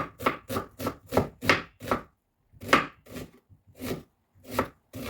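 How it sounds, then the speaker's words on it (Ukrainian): A knife chops an onion into half-rings rapidly on a board, a quick run of crisp strokes, a pause, then several more evenly spaced cuts, close and clear. "Швиденько нарізаємо цибульку півкицями"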